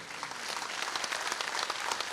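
Audience applause in an open-air spiritual gathering, a dense, steady wash of many hands clapping together for about two seconds at moderate loudness, with no voices over it.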